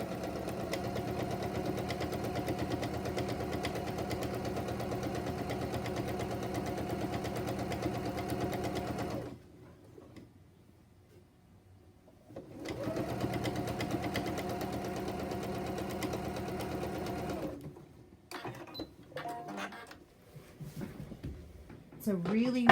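A sewing machine stitches quilt strips together in a quilt-as-you-go block, whirring steadily, pausing briefly, then running again, with some faint talk and handling noise toward the end.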